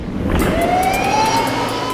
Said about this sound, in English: The ambulance was rocketing across town